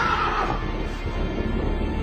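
A horse neighs close by, a loud, shrill whinny at the start that fades into a rough, noisy outdoor background.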